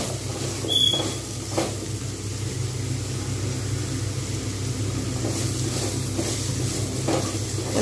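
Ridge gourd frying in a pan with salt and turmeric, a steady low sizzle running throughout with a few brief clinks of stirring, no talk.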